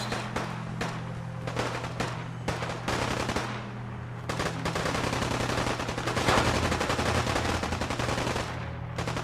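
Rapid bursts of automatic gunfire rattle through a Fallout 4 battle, sharp repeated shots layered densely over a steady low hum, loud and continuous throughout with brief gaps.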